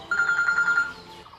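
A mobile phone ringtone plays as a short, bright electronic tone pulsing rapidly for about a second, close and clear, then cuts off.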